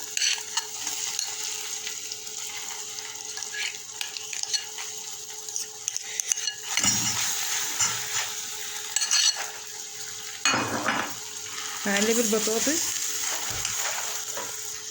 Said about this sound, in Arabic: هقلب البطاطس زي ما انتم شايفين كده.